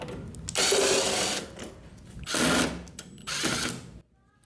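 Screws backed out of a plastic grille piece on a 1995 Chevy OBS truck with a power driver, three short whirring bursts separated by pauses, close and moderately loud.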